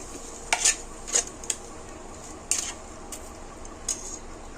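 Goat tripe fry with tomatoes gets stirred in a pan over a faint sizzle, with a few distinct scrapes and clinks of the spoon against the metal.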